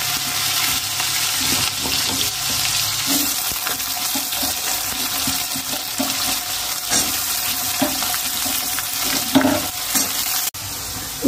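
Diced potatoes fry in a pan with bay leaves and radhuni seasoning, a constant crackling sizzle broken by scraping stirs and clatters, ending in a sharp knock.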